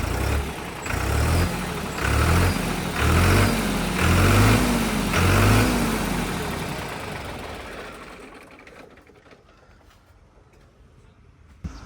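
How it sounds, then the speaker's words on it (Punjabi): A tractor engine fitted with a new silencer idles and runs with a low, steady, muffled rumble and soft rhythmic thumping, fading gradually toward quiet near the end. "ਪਤਾ ਨਹੀਂ ਲੱਗਦਾ ਵੀ ਟਰੈਕਟਰ ਹੈ ਕਿ ਕੀ ਹੈ"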